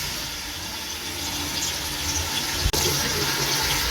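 Onions drop into two cups of hot oil for chicken pulao and sizzle with a steady, close, bright hiss, broken by one brief knock near the end.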